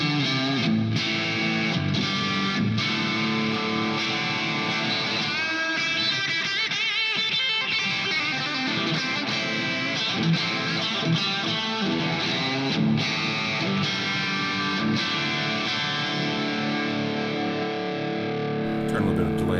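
Heavily distorted electric guitar, a Strandberg Salen, played through an amp, loud chords and riffs ringing out continuously with a thick, saturated tone.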